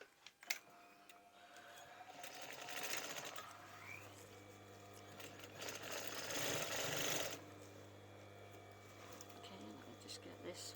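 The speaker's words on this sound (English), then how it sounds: "I'm just going to stitch the side of these down now, but at the same time I'm going to stitch that down at the bottom" A sewing machine stitches down the sides and bottom of a fabric pillow slip, whirring in a couple of bursts that rise and fall, fairly quiet and close with light handling noises between runs.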